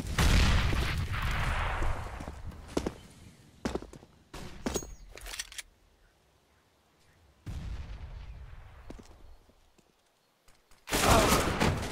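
Gunfire from a Counter-Strike match on the Inferno map, a competitive esports game, comes as bursts of shots and sharp cracks separated by quieter gaps, with footsteps in between and a loud final volley.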